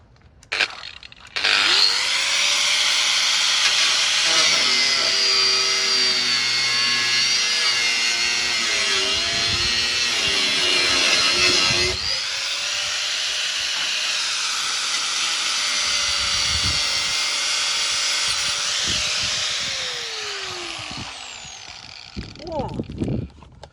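A power tool cuts into the bodywork of a classic Ferrari 308, a loud sustained whine and hiss running for about twenty seconds with pitch shifts and a brief pause midway, close up.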